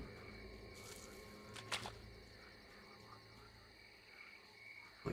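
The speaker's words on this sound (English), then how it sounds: "Like the sound of the frogs croaking." Frogs croak at night in the video game Stalker: Call of Pripyat, a faint, steady chorus with a few louder croaks rising from a quiet background.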